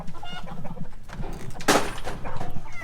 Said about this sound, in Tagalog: Na pagpapakain sa aking mga alagang Rhode Island.